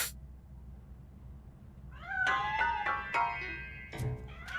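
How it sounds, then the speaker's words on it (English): Several cat meows in the video game Black Myth: Wukong, coming from a cat hidden inside near a piano, rising and falling cries repeated over a low background hum, moderately close. "That cat must be hiding inside."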